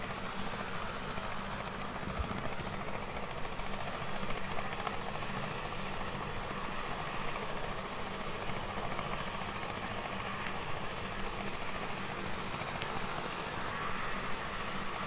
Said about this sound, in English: Helicopter is still a little bit full noise there